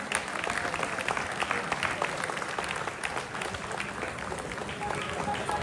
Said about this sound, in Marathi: एकदा जोरदार टाळ्या झाल्या पाहिजेत सर्व ऍक्टर्स आणि टीमसाठी